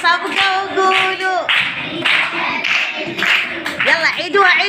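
Rhythmic group clapping at a birthday celebration, with steady hand claps keeping time under loud voices singing and chanting together.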